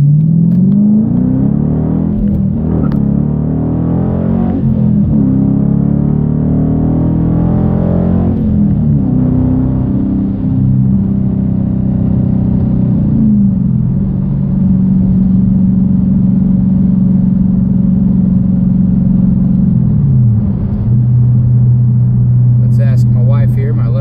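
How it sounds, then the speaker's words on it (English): A 2014 Dodge Challenger R/T with a six-speed manual and straight-pipe exhaust accelerating hard, its deep V8 rumble climbing through revs, dropping at shifts and rising again, loud and close inside the car, with voices talking over it. "I just want you to hear what it sounds like with aggressive acceleration."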